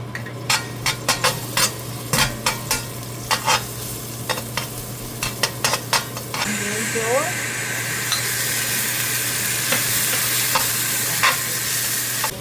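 Crushed garlic is stirred in a pan for mapo tofu, with repeated sharp spatula scrapes and clicks over a sizzle that jumps to a louder, steady frying hiss partway through, close and with no talking.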